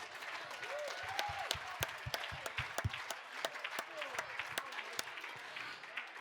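Fairly faint applause from a fundraising gala audience for donors, steady clapping with a few sharp, distinct claps standing out close by.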